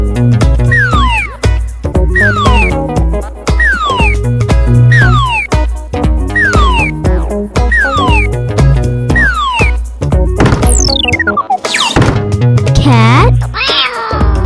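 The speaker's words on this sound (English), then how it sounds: "Cat," A cartoon-style cat meows repeatedly in a rhythmic series over bouncy music, followed by playful boing-like effects near the end; loud and close.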